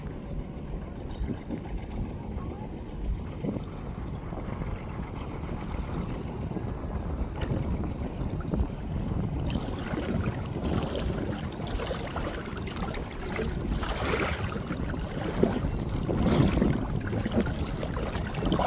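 A fishing boat moving at sea while its crew work nets, heard as a steady broadband wash of water and motor rumble with wind buffeting the microphone, continuous and fairly loud, growing rougher in the second half, with no talk.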